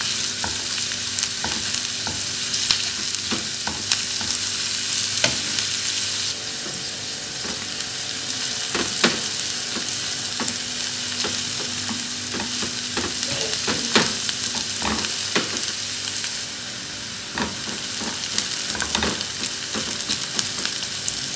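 Spices and a mixture frying in a pan give a steady, close sizzle that runs without a break, with occasional clicks of stirring and no talking.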